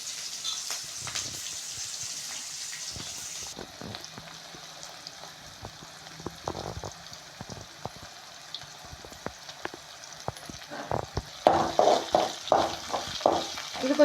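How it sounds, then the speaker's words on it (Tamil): Onions frying in a pan for a Tamil chicken varuval, a steady soft sizzle with intermittent stirring clicks and scrapes, getting busier and louder near the end. "இந்த ஆனியன் வந்து ஒரு கோல்டன் கலருக்கு மாறணும்"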